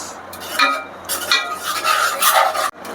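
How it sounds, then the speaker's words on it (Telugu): Mughalai egg curry masala with yogurt fries in oil in a pan, with a steady close scraping and clinking of the spoon and a faint sizzle underneath. "ఇలాగా మంచిగా ఫ్రై చేసుకోవాలి"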